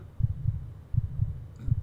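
Heartbeat in a Pokemon haunted house video game: a low, muffled double thump repeating at an even, steady pace, close and alone.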